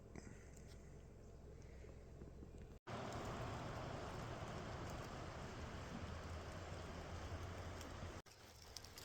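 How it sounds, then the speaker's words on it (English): Rain beginning to fall on a creek along a polluted river, heard as a steady broadband patter and hiss that swells louder midway, with brief dropouts and no talking. "it's starting to rain on us"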